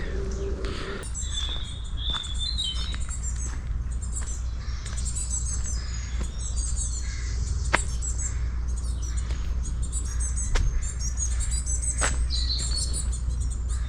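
Birds chirp in the woods, high short calls and trills scattered over a steady low outdoor rumble, fairly near and continuous across the stretch with occasional sharper clicks.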